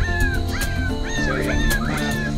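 Hunting dogs on a wild boar hunt yelp and bay in loud, overlapping, rising cries that carry through the whole stretch, close and continuous.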